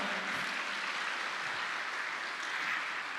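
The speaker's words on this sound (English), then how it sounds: "give a big applause to all of us and to all the nurses all the whole world." A conference audience at an international agronursing event claps in a steady, dense wash of applause for nurses, continuous and fairly even throughout.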